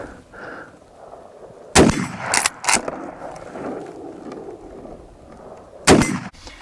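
Winchester Model 64 rifle shots fired at targets outdoors, a few sharp loud cracks spaced seconds apart, with quieter handling and rustling noises in between.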